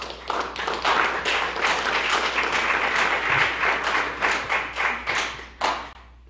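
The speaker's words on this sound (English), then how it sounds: "we should give another round of applause for the players" Sustained audience applause for the players at a freeholders' presentation, many hands clapping close and loud with a few sharper individual claps, tapering slightly near the end.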